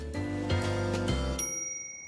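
A bicycle ring bell is struck several times in quick succession, bright close metallic rings with a lingering high shimmer that fades out alone after the last strike.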